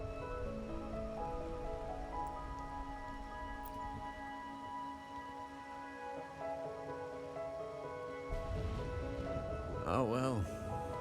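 Steady rain falls in a video game as a constant soft hiss under layered background music, growing slightly louder near the end as a voice begins to speak.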